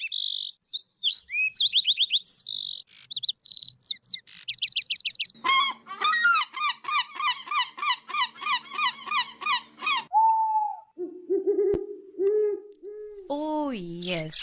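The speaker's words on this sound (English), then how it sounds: "how beautiful those sweet sounds and those chirps" A rich sequence of migratory bird calls: high chirps and tweets, a rapid run of repeated notes, then lower hooting and honking goose-like calls, loud and close with no talking.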